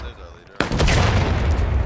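A loud, close musket blast from the American Civil War shooter War of Rights at Bloody Lane, a sudden sharp report that gives way to a sustained roar of gunfire and battle noise.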